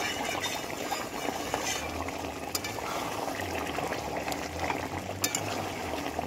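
Meat and potato curry bubbles and spatters steadily in a pot while being stirred, a dense, continuous simmering hiss with small pops, fairly close and moderately loud, with no talk.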